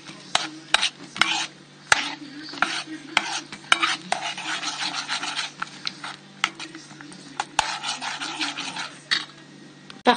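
Spoon scraping and stirring a thick chocolate cookie mixture in a bowl, a steady rasping rub with scattered clinks against the sides, close and continuous for the whole stretch.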